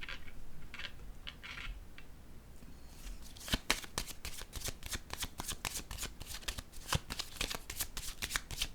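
Tarot cards being shuffled and drawn, a soft papery riffle for the first few seconds, then a rapid run of crisp card snaps and flicks, close up, with no talking.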